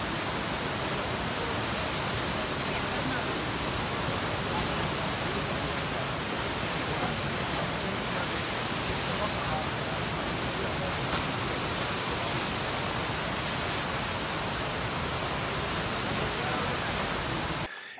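Fast-flowing river in Munich where people surf, a constant broadband rush of churning water, loud and unbroken for the whole stretch, with no voices standing out.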